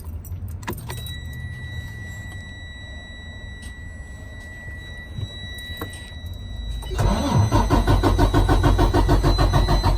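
A Detroit DD15 diesel engine cranks after a fuel filter change: a warning chime tone and light clicks come first, then the starter kicks in with a loud, rapid, rhythmic churning that continues to the end.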